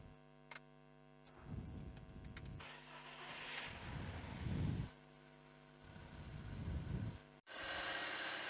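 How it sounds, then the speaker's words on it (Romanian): A BMW Z3 (E36) with the M43 engine cranks in several faint bursts with pauses between them, then catches and settles into a steady low idle near the end. "Motorul a pornit, merge bine."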